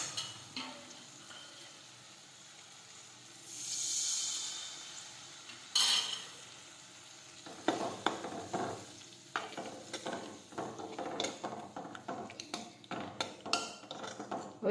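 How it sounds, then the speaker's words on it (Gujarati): Buttermilk poured into a pan of okra curry tempered with cumin, then stirred: a brief hiss and pour, followed by irregular spoon scrapes and clinks against the pan with light sizzling, close and moderately loud. "હવે આપણે થોડી છાશ નાખીશું"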